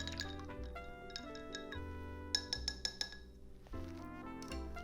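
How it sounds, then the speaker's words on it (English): Stirring a Zivania Bloody Mary cocktail with spiced tomato mix in a glass gives a handful of quick, light clinks around the middle, quiet and set against steady background music. "Now all you have to do is stir like crazy"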